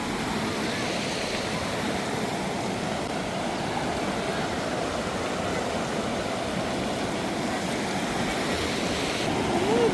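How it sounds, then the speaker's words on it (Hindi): Strong, fast-flowing mountain stream in Siran Valley near Abbottabad, Pakistan, roaring as a loud, steady broadband rush of water that stays constant throughout, with no pauses. "पानी बहुत ज़्यादा तेज़ आ रहा है, डर लग रहा है।"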